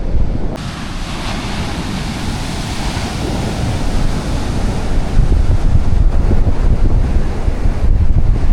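Ocean waves wash against the rocky coast near Lands End in San Francisco, a continuous heavy surf rumble that builds toward the end, with gusty wind buffeting the microphone and no talking.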